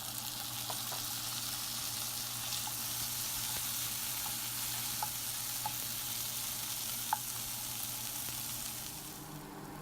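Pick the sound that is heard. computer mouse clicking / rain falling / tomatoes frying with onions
tomatoes frying with onions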